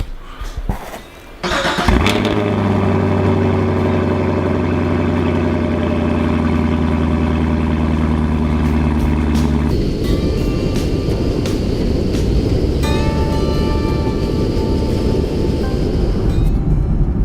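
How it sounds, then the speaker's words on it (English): A car engine, likely a Camaro or Shelby Cobra, cold-starts close by after a brief starter crank, catching and settling into a loud, steady high idle, then dropping to a rougher, lower idle partway through, with no talking. "So we'll start off this morning with a nice little cold start, and then we'll hit the road."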